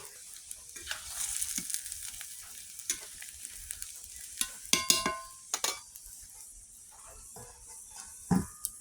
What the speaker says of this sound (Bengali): এটাকে নেড়ে ছেড়ে ঢাকিয়ে দিব